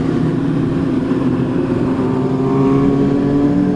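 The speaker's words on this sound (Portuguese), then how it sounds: "É ronco pra caramba de moto" A group of motorcycles on a night ride in Mogi revs loudly, holding a sustained, droning engine roar that swells slightly toward the end.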